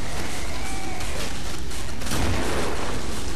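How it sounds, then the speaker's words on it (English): A big explosion in the video game Killing Floor erupts as a dense, loud roar of blasts and rumbling that fills the whole stretch with constant, heavy noise. "What a big explosion behind me."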